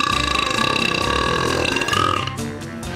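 A long, loud, sustained burp from a man who holds the world record for the loudest burp, a deep, rasping belch roaring for nearly three seconds before trailing off into a brief rumble.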